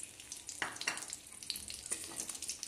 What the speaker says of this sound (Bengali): ফোড়নটাকে সুন্দর করে ভেজে নেব।